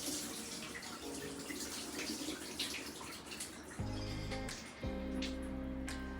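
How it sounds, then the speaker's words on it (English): Water from boiled potatoes pours and splashes steadily into a sink, a continuous rushing flow with a brief low clatter partway through. "Let me pour this water off of here."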